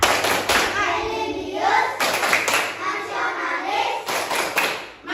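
Group of children in a classroom doing a rhythmic patterned hand-clapping routine, sharp claps in repeated bursts with short pauses, loud and close, with a teacher's voice talking over parts of it.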